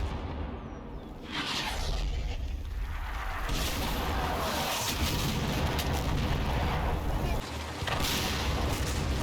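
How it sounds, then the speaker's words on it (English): Artillery shells fall in a heavy barrage on the outskirts of an objective in the WWII video game Combat Mission: dense, continuous rumbling booms and crashes that overlap into a loud, sustained roar. "Another heavy barrage, this time on the outskirts of the east objective."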